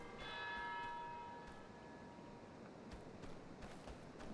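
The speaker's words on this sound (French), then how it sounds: "Bruit de cloche." A church bell rings in the video game Oxenfree 2, a clear tolling tone that hangs at the start and slowly fades into a soft ambient wash.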